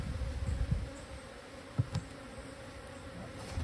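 Honey bees buzz faintly around an opened hive lid, a low steady drone with a few soft knocks and bumps as the inner and outer telescopic covers are handled.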